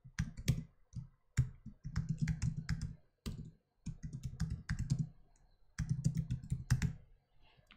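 Typing on a computer keyboard in short uneven bursts of close, crisp key clicks separated by brief pauses, with no voices.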